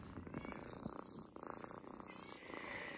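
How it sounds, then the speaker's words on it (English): A steady, close rumbling purr from a cat, continuous and even throughout with a low vibrating texture. "Listen to him purring."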